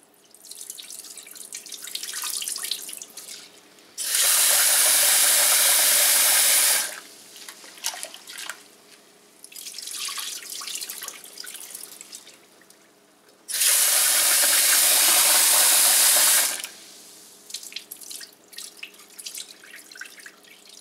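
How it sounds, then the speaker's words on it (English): Rice being rinsed for Korean-style cooking: water swished around grains in a pot alternates with two loud, sustained bursts of water pouring or running from a tap, each a few seconds long, with no talk. "I'm just going to kind of swish it around, dump out the water, and add more water"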